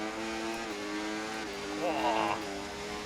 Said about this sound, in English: revving the nuts off the Paul Williams